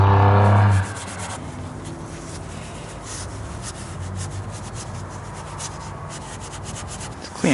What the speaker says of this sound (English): Spray some brake cleaner on some paper towels or a shop rag. And then clean up these, they call them abutment clips.